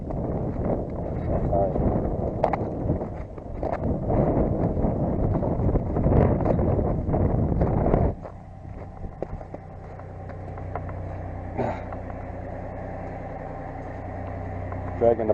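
Wind buffets the microphone in rough gusts over a low idling engine, then drops away, leaving the steady engine hum; someone speaks briefly.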